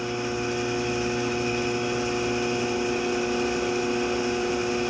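A ShopSmith 10ER woodworking machine fitted with a slow speed kit runs steadily at low speed, giving off a continuous motor hum with layered mechanical whine and no voices.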